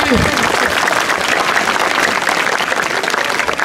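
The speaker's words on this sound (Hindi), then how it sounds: "जोरदार तालियां मार दो भाई" Crowd applauding at an outdoor open-challenge kabaddi match in Jahanian, a dense continuous wash of clapping filling the whole stretch at steady loudness, with some voices mixed into the noise.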